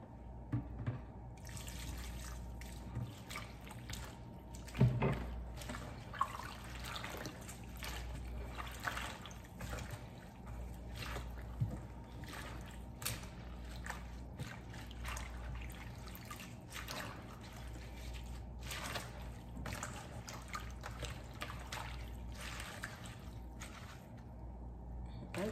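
Collard greens rinsed under running water at a kitchen sink, a steady faint stream with occasional splashes and drips running through the whole stretch, a voice speaking now and then over it.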